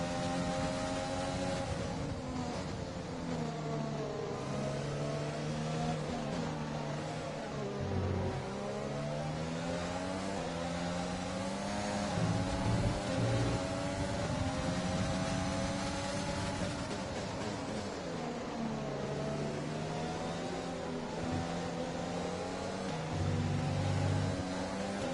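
Formula 1 car engine in F1 2020 racing game at the Chinese Grand Prix, with engine showing slight wear: a continuous high-pitched whine that rises and falls with gear changes, steady and loud throughout with no talk.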